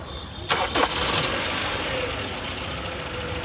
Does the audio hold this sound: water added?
no